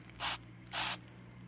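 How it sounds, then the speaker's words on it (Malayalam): A hand-pumped foam spray bottle used for washing a bike gives two short, close hissing bursts about half a second apart, with no talk. "ഇനി ഇത് സ്പ്രേ ചെയ്യുന്നത് കണ്ടോ ഇതാണ് ഫോം"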